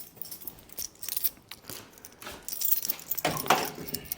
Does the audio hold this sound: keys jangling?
yes